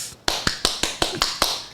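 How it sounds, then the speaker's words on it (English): A button-triggered hand-clap effect plays six crisp, evenly spaced claps in quick succession, each sharp and dry, after a brief quiet start. "I'm going to press the hand clap button."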